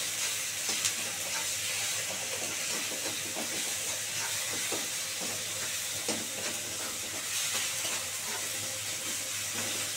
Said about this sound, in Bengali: যেহেতু টমেটোটা একটু ভাজা ভাজা হলে তারপরে সর্ষে বাটাটা দিয়ে দেবো।